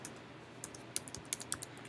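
Quiet typing on a computer keyboard: a short run of light, irregular key clicks, with a few sharper taps near the end.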